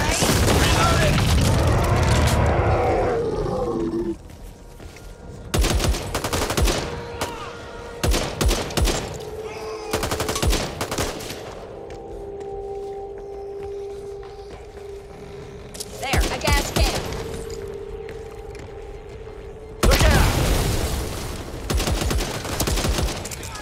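Gunfire in the shooter video game Back 4 Blood: loud bursts of rapid automatic shots and booms come in several clusters, with quieter mechanical game sounds in between and shouted talk over parts of it.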